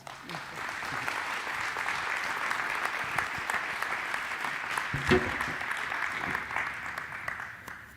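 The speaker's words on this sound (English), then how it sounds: "would you give her a round of applause?" An audience at a live-streamed solidarity gathering applauds a speaker, a soft, even patter of many hands sustained throughout, heard from a moderate distance with one brief louder knock near the middle.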